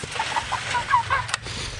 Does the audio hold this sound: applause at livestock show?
no